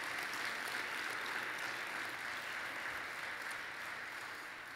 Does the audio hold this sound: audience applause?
yes